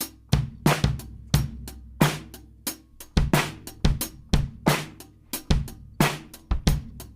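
Live drums with an added clap loop, the synth bass muted, for the rhythm track: steady, punchy hits and sharp claps repeat in a regular groove, loud and close, with no voices.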